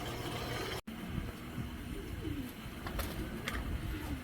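Python bloodline racing pigeons coo in a loft, low soft rolling calls near and faint over a steady background hum, with a few light mechanical clicks.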